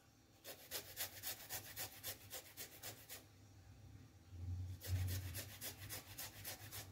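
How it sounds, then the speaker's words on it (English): A chunk of garlic is grated in rapid rhythmic rasping strokes, two bursts separated by a short pause, close and distinct with no talking. "I grate off all of that garlic in here"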